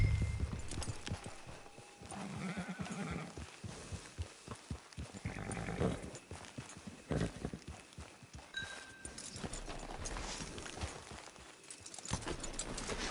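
Horse hooves clip-clop at a steady walking pace in the Western video game Red Dead Online, moderately close, with faint ambient game sounds behind and no talking.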